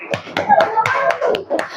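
A small group, likely a class at a religious lesson, claps hands in a loose rhythmic series of sharp claps up close, with a few voices mixed in.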